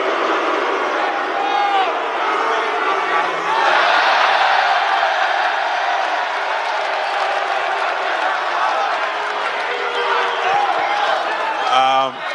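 A dense, loud crowd at a UFC press conference roars and cheers continuously, with shouts and whoops woven through the sustained din.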